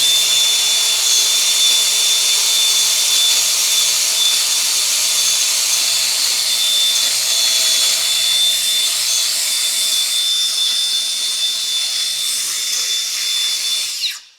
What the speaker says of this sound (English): that wire wheel, it was kicking up wire all over me